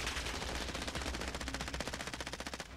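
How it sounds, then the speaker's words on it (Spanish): Automatic gunfire in Call of Duty: Warzone, loud and close, with rapid bursts that settle into an evenly pulsing rattle of shots before cutting off. "Ahora me disparan."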